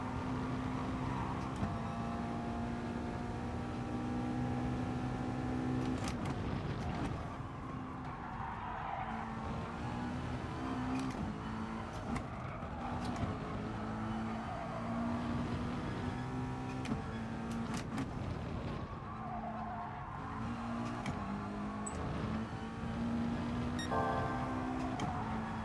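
A McLaren race car engine in GT Sport drones steadily at racing speed throughout, with shifting revs and occasional tire squeal, loud and continuous with no talk.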